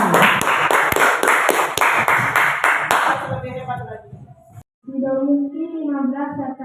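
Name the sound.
class clapping for a student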